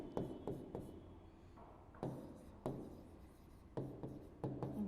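A marker or chalk scratches across a classroom board as a botany topic heading is written, short bursts of rubbing strokes in an irregular rhythm with brief pauses, faint and close.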